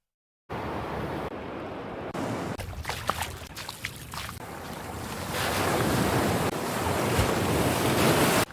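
Ocean surf sound effect played in the background of a livestream, a steady broad wash of waves and wind that swells louder toward the end, with no talking.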